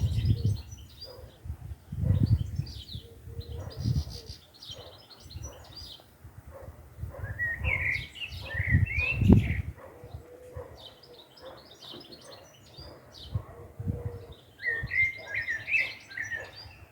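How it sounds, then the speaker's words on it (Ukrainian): A small bird sings outdoors in short bright bursts of chirps and trills, recurring every few seconds over faint low background noise, with soft pigeon-like cooing in places. "Співає пташка і продовжує співати."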